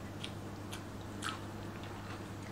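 Several soft crunchy bites and chewing of hot broccoli, close up, spaced irregularly over a steady low background hum.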